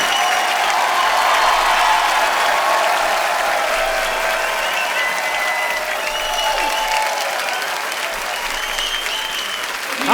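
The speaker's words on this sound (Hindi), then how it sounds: "तो आप सबकी जोरदार तालियों के बीच इन्वाइट करना चाहूंगा the very talented mister Abhay Deol and Diana बेंटी।" A studio audience on a comedy talk show applauds loudly to welcome guests, a dense, continuous wash of clapping that holds steady for about ten seconds, with faint cheering mixed in.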